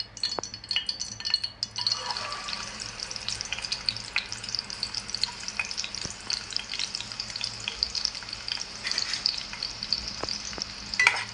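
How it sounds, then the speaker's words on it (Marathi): Chopped onion frying in hot oil for a tempering, a steady close sizzle with occasional light stirring clinks throughout. "फोडणीला आपल्याला कांदा टाकून घ्यायचा आहे"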